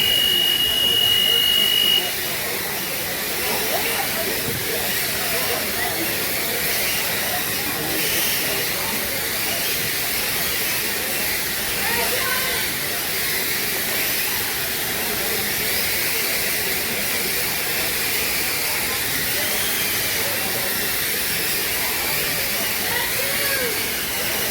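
Drones whine at a drone swarm event, a steady high-pitched buzzing hiss that holds loud and unbroken for the whole stretch, with a brief beep at the start.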